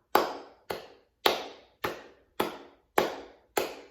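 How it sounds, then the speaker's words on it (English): Seven sharp hand claps in a steady beat roughly every half second, close up with a short ring-out after each, no voices. "We can clap."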